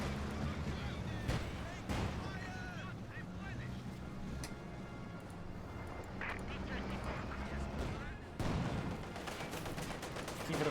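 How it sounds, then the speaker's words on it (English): T-34 tank guns firing in a Company of Heroes 2 battle, several sharp booms and bursts of gunfire scattered across a busy battle mix, heard under a commentator talking. "T-34 firing right there."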